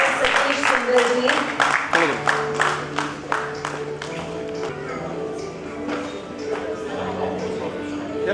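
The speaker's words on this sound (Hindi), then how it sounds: "जोरदार तालियां for Dr. Satish Singhal ji." Applause from an awards ceremony audience, a steady wash of claps with some sharper individual claps near the start, mixed with a sustained musical tone underneath and a voice speaking over it.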